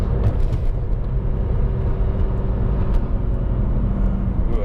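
A 2006 BMW M3 E46 with the ZCP Competition Package drives on, its engine giving a loud, steady low rumble with continuous road and wind noise heard from inside the car.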